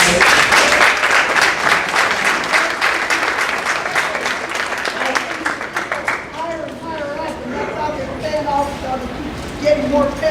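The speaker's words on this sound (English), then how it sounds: "Could we please give them a round of applause?" An audience applauds candidates at the close of an evening event with dense, loud clapping that fades after several seconds into scattered claps, with voices chattering over the end.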